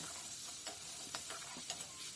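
Kohlrabi being stirred and fried in a pan, a soft continuous sizzle with a few brief scraping stir strokes, faint and steady with no voices.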